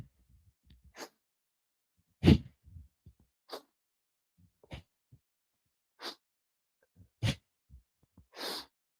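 Powerful, controlled breaths during an exercise movement, a series of about eight sharp forceful exhales spaced a second or so apart, close and fairly loud, with quieter inhales between and no talk.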